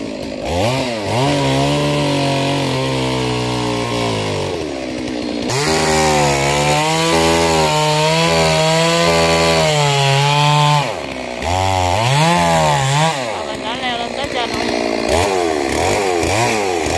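A small chainsaw cuts into king palm trunks, its engine revving up and down in steady waves, loud and close, running continuously with no voices.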